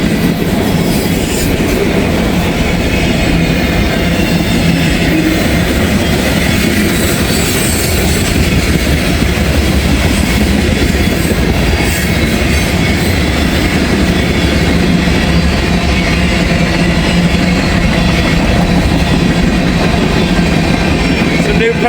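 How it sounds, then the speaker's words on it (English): A long freight train with potash cars rumbles past close by, loud and continuous, with rhythmic clickety-clack of wheels over rail joints and occasional metallic squeal. "Man, this is a big train, folks."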